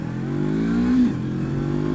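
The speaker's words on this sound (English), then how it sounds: "I'm going to accelerate one more time from zero, from a standstill." A Honda NX500 motorcycle pulls away from a standstill, its engine note steady and close, rising in a smooth climb through the first gear with a brief surge mid-clip, no voices over it.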